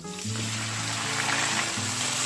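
Tomatoes hit hot mustard oil with browned garlic in the pan, giving a close, continuous sizzle and crackle that stays bright and steady throughout.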